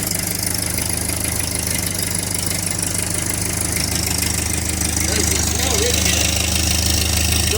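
An old engine running after a carburetor swap, a steady close idle with a low knocking pulse whose revs rise slightly toward the end, with voices talking over it.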